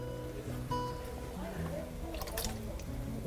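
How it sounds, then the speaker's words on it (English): Canned chopped clams with their juice poured into a pot of thickening potato clam chowder, giving soft wet splashes and drips, with a person talking over it. "we're just going to add our cans of chopped clams."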